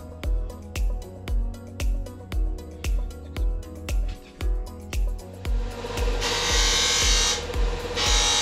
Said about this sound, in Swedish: Så att nu ska jag borra hål på andra sidan.